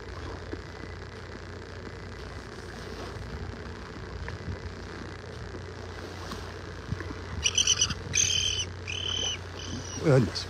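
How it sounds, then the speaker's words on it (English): Noisy willet shorebirds call in bursts of high, chattering cries toward the end, over a steady outdoor background of wind and surf on Vanderbilt Beach, Naples, Florida. "those willow birds are noisy"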